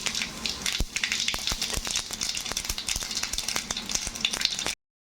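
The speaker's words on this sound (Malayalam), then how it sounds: "ഞാനിത് താളിക്കാൻ വേണ്ടി 2 ടീസ്പൂൺ ചട്ടിയിലേക്ക് എണ്ണ ഒഴിച്ചിട്ടുണ്ട്, വെളിച്ചെണ്ണ ഒഴിച്ചിട്ടുണ്ട്. അതിലേക്ക് ഞാൻ 1 ടീസ്പൂൺ കടുകിടുന്നത്." A teaspoon of mustard seeds fries in two teaspoons of hot coconut oil in a pan for tempering, giving dense, close, rapid crackling pops over a constant sizzle before cutting off abruptly.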